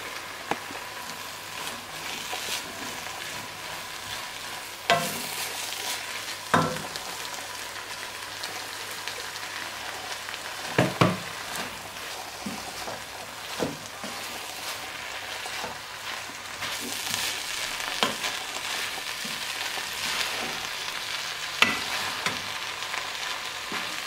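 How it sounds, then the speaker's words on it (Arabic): Fish kofta filling frying in a pan, a steady soft sizzle and crackle with occasional clicks and scrapes of stirring, close and fairly quiet with no talk. "الحشوه ديالنا بعد ما تشحرت مزيان فكنخليوها حتى تنشف نهائيا من الماء"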